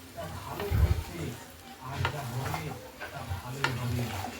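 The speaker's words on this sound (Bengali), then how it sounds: "ভালো করে সবজিটা কষিয়ে নেবেন।" Mixed vegetables cooked down in oil in a pan give a soft sizzle broken by repeated scraping stirs and light clinks of a spatula against the pan, with a voice talking over the cooking.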